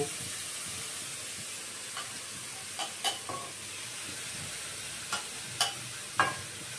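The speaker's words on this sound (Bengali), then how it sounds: "সব একসাথে ভাজা ভাজা হয়ে থাকবে।" Vegetables, tomatoes and peas frying together in a pan, a quiet continuous sizzle broken by several short scraping stir strokes of a spatula.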